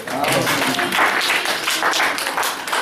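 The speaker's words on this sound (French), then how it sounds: "Acclamation pour la sœur Esther." A church congregation applauds Sister Esther, a dense, steady wash of clapping filling the room for about three seconds with no pause.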